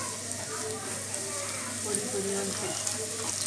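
Oil sizzles steadily as garlic fries for chilli bread, a continuous crackling hiss close by, with a person talking over it.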